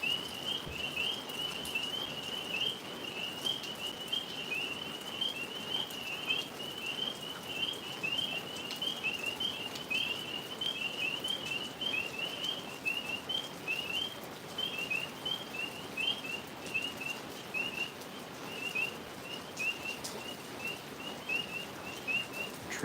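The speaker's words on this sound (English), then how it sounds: "Tree frogs are active." Tree frogs call in a steady, rapid chorus of high chirps over a soft background hiss.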